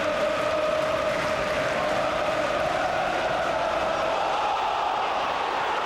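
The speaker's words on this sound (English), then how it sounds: "Crowd appealing for a foul throw there" A large football stadium crowd at a Liverpool versus Middlesbrough match roars in a steady, broad wash of noise, appealing for a foul throw, with a sustained rising tone running through it.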